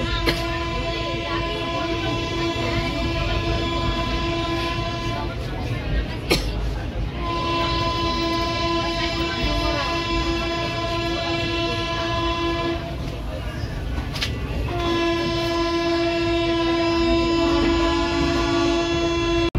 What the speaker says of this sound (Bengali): সাঁতরাগাছি ছাড়ার পর জগন্নাথ এক্সপ্রেস বেশ ভালোই স্পিডে চলছে